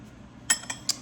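A metal spoon clinks three times against a container while scooping granulated sugar, sharp bright taps spaced evenly over a quiet background.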